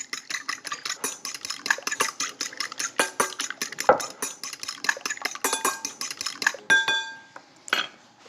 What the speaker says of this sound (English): Let's whisk them.